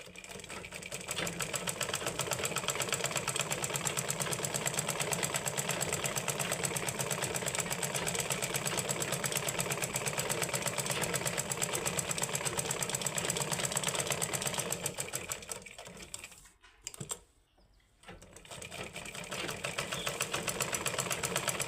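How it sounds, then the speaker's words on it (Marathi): A sewing machine stitches around all four sides of a piece of cloth while making a small bag, running in a steady, loud mechanical whir that pauses briefly near the end before starting again. "चारही साईडने आपण शिलाई मारून या कापडावर आपण शिलाई मारून घेणार आहोत बघा."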